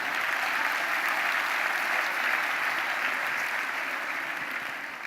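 An audience breaks into loud, dense applause at a live comedy show, a steady wash of clapping that holds for several seconds and eases slightly at the end, with no one speaking.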